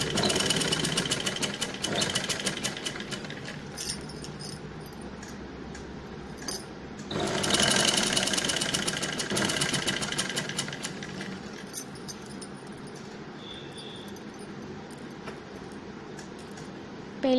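A sewing machine stitches a lined suit, running in a steady close mechanical chatter that surges louder for a few seconds midway, then eases back to a softer continuous whir.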